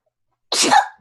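A single sharp sneeze, close and fairly loud, after a moment of silence.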